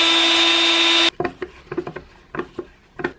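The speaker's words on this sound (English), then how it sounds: "I'm just going to pre-drill some holes ready for these super tiny screws" A power drill bores pilot holes into a small wooden box, a loud continuous whine for about a second, followed by a series of faint, sharp taps and knocks as the work is handled.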